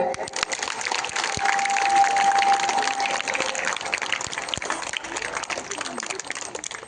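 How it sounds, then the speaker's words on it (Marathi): Audience at a school yoga day event clapping in a welcome, dense steady applause throughout with a voice speaking over it. "सर्वांनी टाळ्या वाजवायच्या।"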